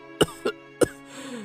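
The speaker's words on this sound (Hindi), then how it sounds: "इतना कहकर बूढ़ा फिर से खांसने लगा।" An old man coughs three times in quick, uneven bursts, close and fairly loud, followed by a faint wheezy exhale; no speech.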